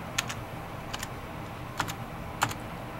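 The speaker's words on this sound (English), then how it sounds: "type in your new USAV code" Four brief bursts of computer keyboard keystrokes as a code is typed in, soft clusters of clicks spaced roughly half a second apart against a quiet background.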